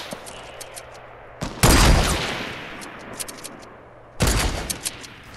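Gunfire in a Fortnite battle royale match comes in two loud, sharp bursts of rapid shots a few seconds apart, with quieter ambient game noise and scattered pops between them.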